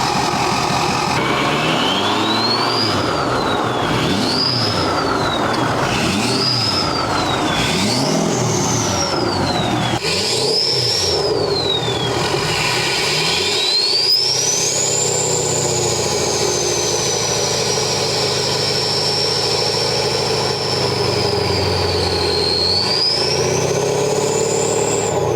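A 6.7L Powerstroke diesel truck making 725HP is revved in several quick, rising bursts, each with a whistling turbo. It then launches hard into one long, loud pull that holds high.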